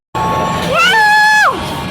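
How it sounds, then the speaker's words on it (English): Loud, sustained high-pitched screaming from riders on a theme park ride, rising sharply into a long held shriek and then dropping away, over a continuous background of ride noise. "how loud I was screaming on that ride"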